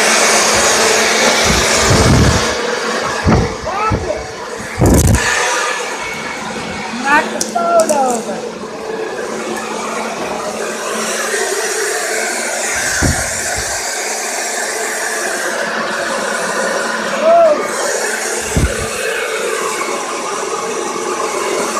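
A leaf blower runs with a steady whooshing roar while a dog attacks it, with scuffling, bumps and a few thuds over the motor; someone talks over it at moments.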